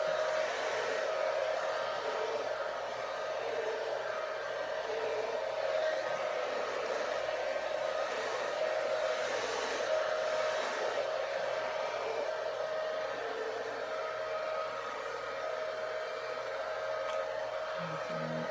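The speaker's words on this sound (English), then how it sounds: "Just blow dry it." Hair dryer on its lowest setting blow-drying curly hair straight, a constant close whooshing hum that runs unbroken throughout with no voices.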